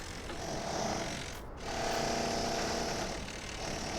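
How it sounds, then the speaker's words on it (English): A worker drills into a castle wall in a video game, a loud, continuous, rough grinding hammer-drill noise that briefly cuts out midway, then resumes at full strength. "I'd really like to know why he's drilling holes in my castle."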